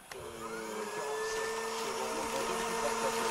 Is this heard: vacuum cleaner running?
yes